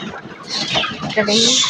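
Hens cluck and murmur close by as they peck at grain scattered on a farm, with short rising calls building toward the end.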